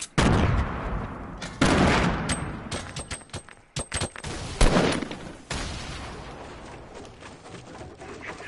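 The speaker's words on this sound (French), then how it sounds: "Il me tire dessus." Bursts of gunfire in a Fortnite battle royale match, sharp close shots in irregular clusters with louder blasts and quieter trailing pops, spread across the whole stretch.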